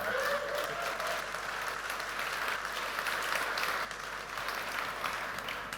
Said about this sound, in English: Give Bartosz a round of applause